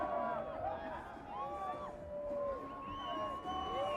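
Fans in the grandstand at Texas Motor Speedway during a 2004 IndyCar race cheer and whoop from a distance, faint crowd noise under a commentator talking.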